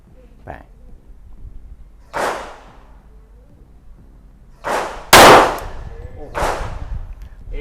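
Shots from a SIG Sauer P220 pistol, four sharp loud reports spaced irregularly over several seconds, each with a short decay, against faint background noise and a voice.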